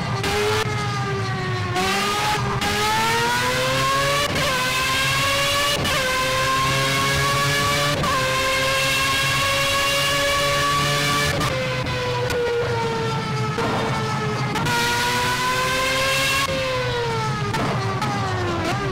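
Formula A open-wheel race car in Project CARS on Xbox One, its high-pitched engine whining loudly and continuously, climbing through the revs and dropping sharply at each gear shift, close and alone without talk.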